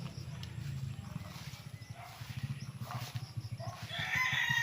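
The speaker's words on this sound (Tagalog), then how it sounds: "May mga panabong dito na manok." A fighting rooster crows over a steady low background rumble on a farm lot in Pila, Laguna, Philippines, with a second crowing burst near the end.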